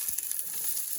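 Chopped onion, pepper and jalapeno sizzle in about a tablespoon of extra virgin olive oil in a pan, a steady close hiss with soft crackles.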